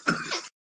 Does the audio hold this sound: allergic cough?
yes